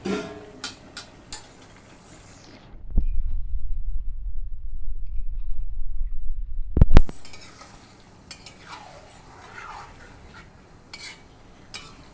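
Potatoes frying in a pan, a steady sizzle lasting several seconds, bracketed by clinking utensil stirs and scrapes against the pan before and after.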